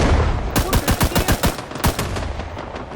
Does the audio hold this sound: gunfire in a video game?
yes